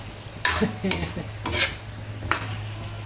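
A spatula scrapes and stirs frying food in a pan with soft background sizzle: four or five distinct scraping strokes spaced unevenly, close and moderately loud, over a steady low hum.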